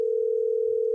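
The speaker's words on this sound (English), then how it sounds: "Now let's get Todd Olson on the phone" A telephone dial tone plays while a call is being placed, a single steady pure tone held loud and unbroken for about a second.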